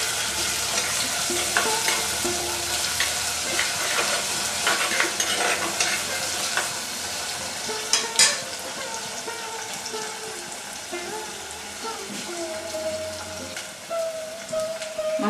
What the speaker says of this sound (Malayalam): ഇതിലേക്ക് നമ്മൾ ചതച്ച ചെറിയ ഉള്ളി ഇട്ട് കൊടുക്കുവാണ്. അതും കൂടെ ഒന്ന് വഴറ്റും.